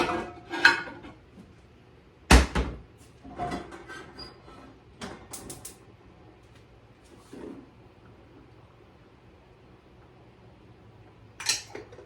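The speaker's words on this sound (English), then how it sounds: "Hold on, let me get a different skillet." Skillets and other pans are handled in a home kitchen: scattered metallic clanks and clatters, one sharp loud bang near the start, then quieter knocks and rattles separated by stretches of near silence.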